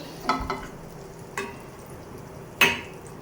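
A small knob of butter in a hot pan, soft sizzling under a few sharp clinks and scrapes of a utensil against the pan, close and fairly quiet.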